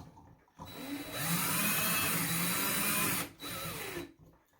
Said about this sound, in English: Let me just tighten them down here.